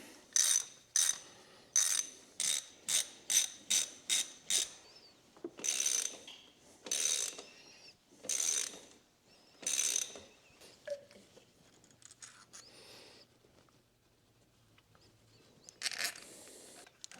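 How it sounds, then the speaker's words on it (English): A ratchet bolts down a turbo coolant hard line on a GLI, giving repeated bursts of quick metallic clicking, about a dozen separate runs with short pauses and one last burst after a longer gap. "I'm just gonna go ahead and bolt down this coolant hard line here in all 3 corners"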